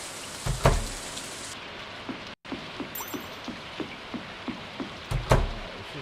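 Steady patter of rain in Stardew Valley, a soft continuous wash with a few louder thumps and taps scattered through it and no voices.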